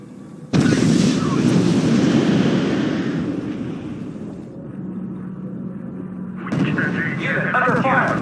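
Artillery and gunfire from the RUSE strategy video game, dense booming blasts and rumbling explosions that roll on continuously, loud and full, with voices talking over the battle.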